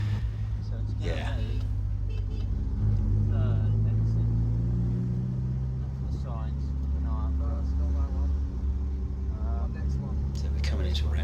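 A car competing in the Mille Miglia road rally drives steadily through Italian town streets with a constant engine rumble. People talk over it throughout.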